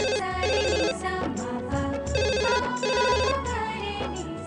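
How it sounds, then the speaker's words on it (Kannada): A house telephone rings with a melodic electronic ringtone, a bright repeating pattern of tones that plays continuously and loudly, with no talk over it. "ಫೋನ್ ಒಂದು ಬೆಳಗ್ಗೆಯಿಂದ ಹೊಡ್ಕೊತಾನೆ"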